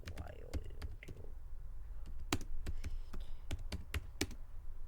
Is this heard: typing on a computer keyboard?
yes